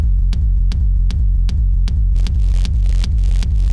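Deep, booming electronic kick drums split left and right thump in a steady fast pulse over a continuous low rumble, with clicky transients and hissy noise creeping in later.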